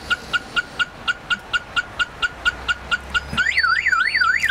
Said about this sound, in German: Wie die Alarmanlage einen Vollalarm auslöst, wenn ich versuchen würde, jetzt den Wagen zu klauen,